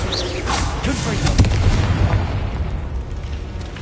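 The Confringo blasting spell in Hogwarts Legacy explodes with a loud booming burst and crackling pops, and a rumbling tail fades out over several seconds.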